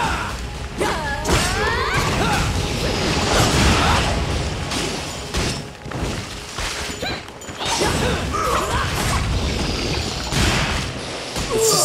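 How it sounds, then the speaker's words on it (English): Enemies burst apart in the Dragon's Crown video game, a dense stream of crashes, thuds and whooshes from combat that runs without pause, with a voice talking underneath. "Disgusting how they blow up."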